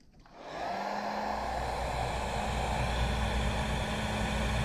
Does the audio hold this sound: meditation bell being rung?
no